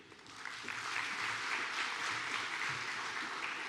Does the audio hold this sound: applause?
yes